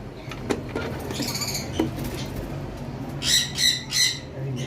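Lovebirds in a breeding box at a bird farm give several sharp squawks, with a burst of three loud harsh calls near the end, plus scattered rustling and faint chirps, close by.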